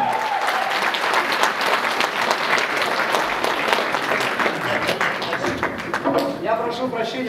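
Dense applause from a children's gala concert audience at a Kalmyk talent contest fills the hall steadily, with scattered voices and a speaking voice rising near the end.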